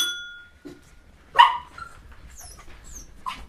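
A dog gives a single short bark, close and moderately loud, amid quiet outdoor background with faint chirps and rustling.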